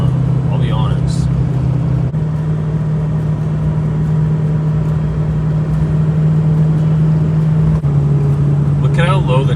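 A 6.0 Powerstroke diesel truck tows up a steep hill on a hot day, its engine giving a steady, deep droning hum that holds throughout, with someone talking over it.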